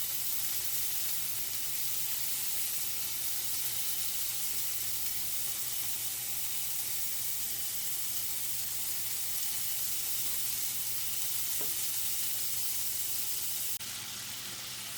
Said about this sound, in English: our bacon is frying